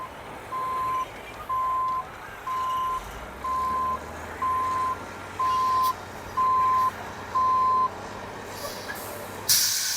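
A truck backs up at a landfill, its reverse alarm giving eight steady, evenly spaced beeps over a low engine idle and distant equipment rumble, then stopping near the end.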